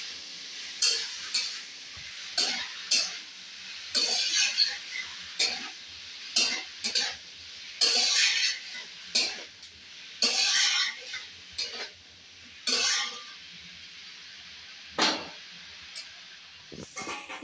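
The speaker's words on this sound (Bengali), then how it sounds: "এবার ভালো করে নাড়িয়ে দেবো।" A pot of tilapia fish curry with bottle gourd, seasoned with salt and turmeric, is stirred in short bursts of scraping and clinking, each spaced by brief pauses over a faint background sizzle.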